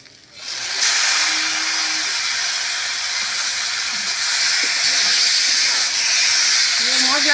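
Taro leaves drop into a hot pan of spices for a village-style prawn dish, setting off a sudden loud hiss that settles into a steady, close sizzle.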